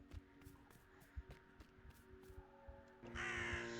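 Crow cawing in the video game Drake Hollow, a series of short, evenly spaced caws over a steady ambient game hum, with a brighter swell of background sound near the end.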